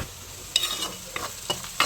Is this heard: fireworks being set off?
no